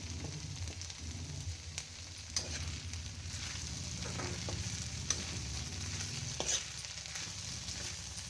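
Potato curry with green chillies, salt and turmeric fries in a pan, a continuous low sizzle under repeated scraping and stirring strokes, with no talking.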